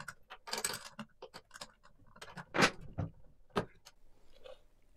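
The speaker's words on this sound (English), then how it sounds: "I'm gonna take off the old carburetor" The old carburetor comes off a pocket bike: scattered close metallic clicks, scrapes and small rattles of parts and tools, with brief sharper knocks and no talking.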